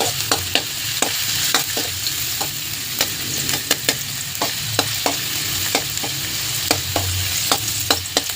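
Chopped garlic sizzles steadily in hot oil in a pan, after ginger, while a utensil scrapes and clicks against the pan in regular stirring strokes, close and clear without talk.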